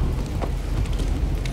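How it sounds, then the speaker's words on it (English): Rain falls steadily in the Star Wars Jedi: Fallen Order video game, a loud close hiss over a deep rumbling low end suggesting thunder, continuous with no speech. "Oh, goody, it's still raining."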